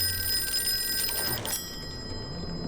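An old telephone rings in a 1920s occult investigation scene of the Call of Cthulhu video game, a bright metallic bell ringing steadily before cutting off partway through, with no one talking.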